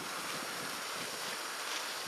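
Wind blows outdoors around a lit torch lighter, a faint, steady broadband rush of gusting air buffeting the microphone, with no distinct flame or other sounds standing out.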